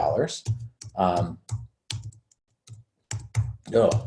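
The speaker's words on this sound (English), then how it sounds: "Having trouble hitting my keyboard." Keyboard keys tapped in irregular bursts with short pauses, close by, while a person speaks intermittently over the clicking.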